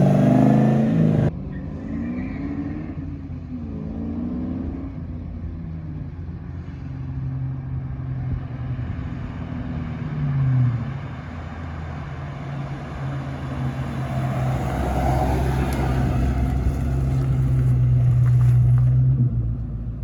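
A car on a short test drive after new inner tie rods and an alignment, with a steady engine drone and road rumble from inside the cabin that swells as it accelerates late on.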